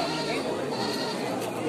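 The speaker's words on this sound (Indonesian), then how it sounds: "Ini di depan saya sudah ada bandot atau jantan dewasa yang super jumbo ya." A very large adult male goat bleats at a livestock goat market in Belik, Pemalang, a short loud call up close within a busy crowd of chatter and talking voices.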